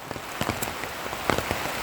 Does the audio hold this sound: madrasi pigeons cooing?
no